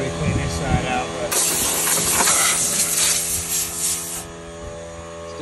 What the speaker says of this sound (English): We're just trying to spray the machine out as much as possible every time